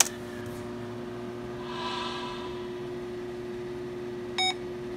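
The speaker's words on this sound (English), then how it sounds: "Of course it beeps." A single short electronic beep from a computer restarting during an Ubuntu 7.04 install, near the end, preceded by quiet machine hum and a soft breathy sound.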